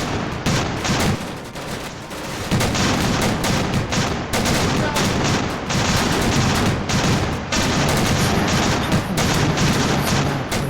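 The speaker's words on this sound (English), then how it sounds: "Get up close and watch these anti-air guns." Anti-aircraft guns aboard warships in the naval warfare game Victory at Sea Atlantic fire rapid bursts and volleys, a loud, close, rattling stream of shots with deep booms mixed in, persisting throughout.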